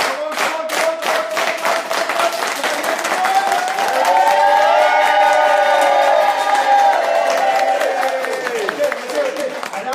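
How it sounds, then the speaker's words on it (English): An audience claps and cheers at a motivational talk, sustained applause with rhythmic clapping early on swelling into a loud crowd roar with whoops. "So let's start clapping."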